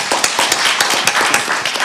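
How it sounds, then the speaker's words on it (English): A brief burst of close, loud audience clapping at an event where Maryland's governor honors deaf advocate Nyle DiMarco, individual sharp claps standing out in a quick, uneven rhythm. "Let's give him a round of applause."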